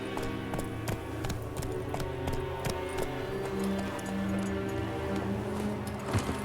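Roach, Geralt's horse in The Witcher 3, gallops in a steady rapid clip-clop of hooves under ambient game music, holding an even pace throughout.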